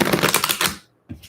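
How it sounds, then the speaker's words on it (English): Tarot cards are shuffled in a quick riffle of rapid, close papery flutters lasting under a second, then a brief pause and a short second flick of the cards. "I feel like I don't need to shuffle that much for you"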